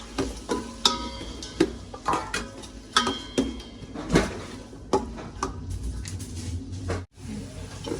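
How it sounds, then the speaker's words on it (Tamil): Onions sautéing with cardamom in a pan for chicken biryani, with repeated close metallic clanks and scrapes of a spoon stirring against the pan in an uneven rhythm, without any talking. "வெங்காயத்தை போட்டு நல்லா நாங்கள் வதக்கி எடுப்போம்"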